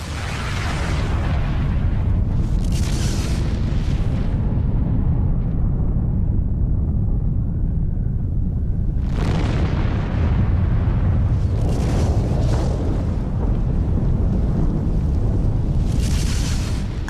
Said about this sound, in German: Alle drei Krater der Vulkaninsel brechen aus. In einer massiven Salve von Explosionen.